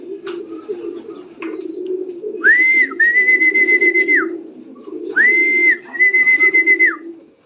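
Soft racing pigeon cooing murmurs continuously at the loft as a bird arrives, while two long whistled tones rise and hold, each lasting about a second and a half.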